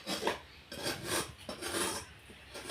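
A blade rasps across the inside of a very hot kadai (wok) as it is scraped clean, in repeated close, loud strokes about every half second, with no talk.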